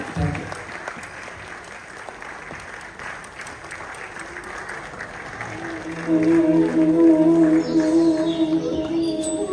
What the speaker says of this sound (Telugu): పిల్లలు వస్తున్నప్పుడు చప్పట్లు కొట్టే వాళ్ళు చాలా ఎంకరేజింగ్ ఉంటుంది